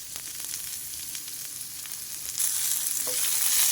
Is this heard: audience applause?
no